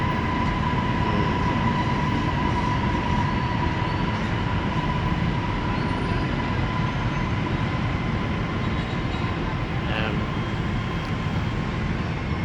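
An MRT train rumbles past near a station in the Philippines in a loud, steady roar that holds for several seconds, with a faint high whine.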